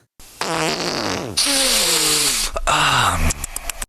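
A comedic fart sound effect plays as a single long, loud, wavering blast with falling pitch, followed by a few shorter sputtering bursts.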